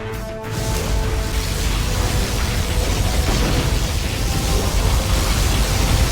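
Particle cannon firing in Command & Conquer Generals Zero Hour, a loud, dense roaring blast that swells quickly and holds steady for several seconds, with a faint tonal hum at the start.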